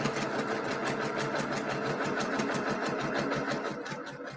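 A sewing machine runs the final seam of a kaleidoscope quilt block, a close, fast, evenly pulsing stitch rhythm that holds steady and eases slightly at the end.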